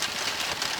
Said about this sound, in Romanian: Că tot plouă în continuu.